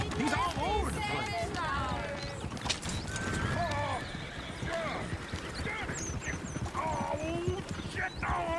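Hooves of a horse-drawn coach clip-clop over a busy mix with horses neighing and voices talking in the video game Red Dead Redemption 2, the hoofbeats continuous and close.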